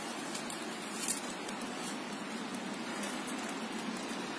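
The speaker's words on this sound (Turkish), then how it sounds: "Kısmetinize bugün yağmur yağıyor." Steady rain patters down on a surface, a constant close hiss with scattered drops and no voices.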